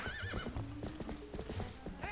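Horse from the video game Zelda Twilight Princess clip-clops and whinnies, quick hoof beats with a neigh near the start, moderately loud with no talk.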